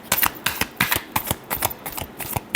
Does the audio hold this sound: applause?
no